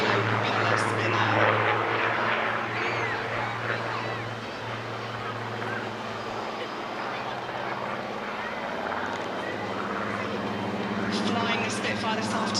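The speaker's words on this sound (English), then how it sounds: "The aircraft fly past us on the seafront there" Propeller aircraft, a BBMF Supermarine Spitfire and Hawker Hurricane, droning past over the seafront at Clacton Airshow, a steady broad engine roar that swells and eases, with a commentator's voice talking over it throughout.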